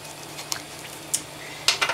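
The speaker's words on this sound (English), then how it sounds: "trying to not use metal spoons because of the sound when I mix" A metal spoon stirs food coloring in a small container for dip dyeing yarn in Wilton's Violet, making a soft liquid swish with a few sharp clinks against the container.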